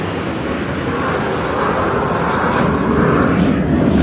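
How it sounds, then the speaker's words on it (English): An F-18 jet fighter passes overhead with a loud, steady broadband roar that swells slightly toward the end, with no voices over it. "I've got a jet fighter flying over."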